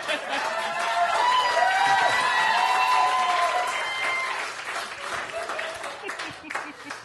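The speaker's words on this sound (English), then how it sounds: "we totally just got applause in New York City" A New York City cabaret audience applauds in a sustained, even wash of clapping that gradually fades, with a few voices and cheers mixed in.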